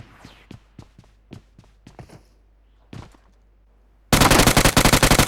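Bursts of automatic gunfire from PUBG Mobile erupt loud and rapid in the closing second, after sparse sharp single shots and footstep-like taps scattered earlier.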